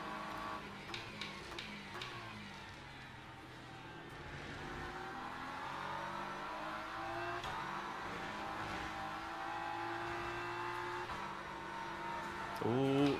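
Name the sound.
GT3 race car engines in a racing sim video game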